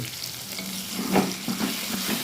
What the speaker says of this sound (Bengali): ভালো করে নাড়িয়ে নিতে হবে নুন হলুদটা সব আলুর মধ্যেই পড়ে